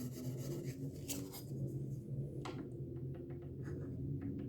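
Close, steady scratchy rubbing of 400-grit abrasive on Fender Precision bass frets, back-and-forth sanding strokes continuing throughout.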